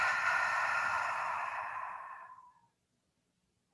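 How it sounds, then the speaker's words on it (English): A single long, deep exhale through open lips during a yoga breathing exercise, soft and breathy, tapering off into silence with a faint click at the end. "Deep breath in through the nose. And open the lips to exhale."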